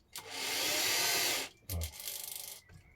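A power driver sinks a wood screw into a wooden rake handle in two bursts, a long steady whir and then a shorter one ending in a quick rattling of the bit, close and loud.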